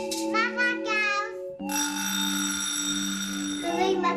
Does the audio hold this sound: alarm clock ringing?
yes